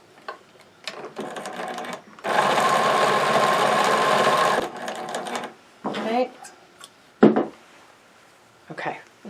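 A sewing machine stitches back over a stocking seam in one steady burst of about two seconds, followed by short stop-start runs, clicks and handling noise.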